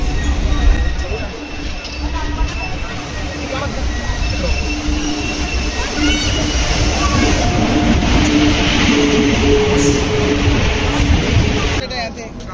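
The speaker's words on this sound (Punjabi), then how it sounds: "ਤੇ ਆਪਣੀ ਟ੍ਰੇਨ ਆ ਚੁੱਕੀ ਹੈਗੀ" A train pulls into a station on the way to Jammu with a loud, continuous rumble and wheel squeal; voices carry in the background.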